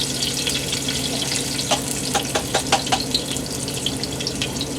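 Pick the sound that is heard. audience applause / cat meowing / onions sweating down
onions sweating down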